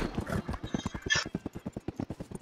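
Horse hooves in Red Dead Redemption 2, riding between train stations: a quick, regular clip-clop of a galloping horse, close and clear, with a brief snort partway through and no talking.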